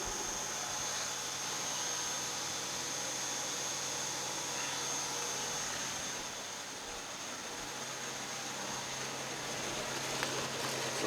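A Syil X7 CNC mill spindle runs with flood coolant on, giving a steady, even hiss and whir with a constant high whine, close by and unchanging throughout.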